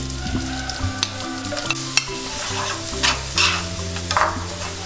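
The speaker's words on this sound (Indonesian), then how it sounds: "kita tumis bawang pre" Leeks sautéing in margarine in a pan give a steady sizzle, with scraping and stirring clatters through it and no voices.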